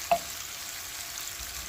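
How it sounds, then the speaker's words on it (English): Onions and garlic frying in a pan, a steady soft sizzle throughout with one brief clink near the start, no talking. "you're just gonna cook up your onions and your garlic just to kind of get them translucent"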